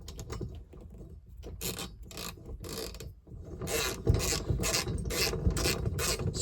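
Bolts are screwed into the cross bracket of an OutEquipPro 12V 10,000 BTU air conditioner in a van. Close ratcheting clicks and metallic rasping come in repeated short bursts, growing denser and louder toward the end.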